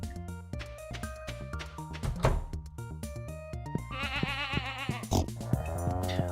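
A goat in the farming game Stardew Valley lets out a wavering, quavering bleat over the game's melodic background music, clear and close, a single call near the end.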